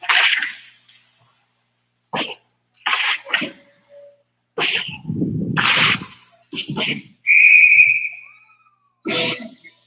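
A referee's whistle gives one short, sharp blast during a hockey game, amid scattered crowd noise, thuds and short bursts of speech.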